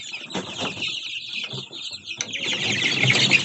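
Chickens cluck and chicks peep in a steady, busy chorus at close range around feeding time, with the calls growing denser and louder toward the end.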